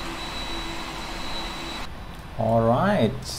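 A PMDG 747-400F jet engine in a flight simulator spins down: a steady whine and low hum drone for under two seconds, then cut off abruptly, and a voice speaks over the quieter background afterward.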